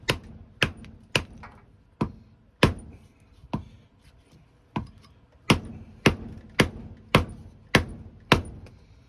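Sharp, ringing metallic strikes of a hammer during a hard-use abuse test of a bat tool, about a dozen blows at uneven intervals, close and loud.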